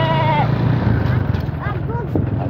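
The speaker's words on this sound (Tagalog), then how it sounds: "Daming kambing dito." Many goats bleat nearby on a farm in Kilalan, their wavering calls rising and falling over a steady low hum, with voices talking in the background.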